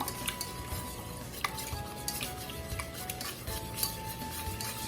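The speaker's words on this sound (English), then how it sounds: "we will begin the whisk process of just whisking it all together" Milk and sugar whisked together in a bowl: quiet repeated scraping and light tapping of a whisk against the bowl, close and soft, with a faint ringing hum behind it and no speech.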